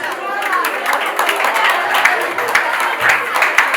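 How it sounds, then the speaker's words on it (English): Students at a youth foundation outreach symposium applaud with loud, dense clapping, where individual sharp claps stand out from the crowd noise. Scattered voices and cheering mix in throughout. "Clap for yourselves"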